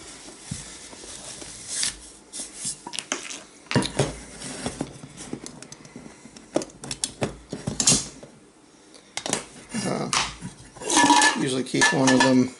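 A BSR Soloist titanium pot clanks and rattles against a small BSR titanium camping stove, with irregular metallic knocks, scrapes and jangles near the microphone, some bursts louder, and a brief faint voice.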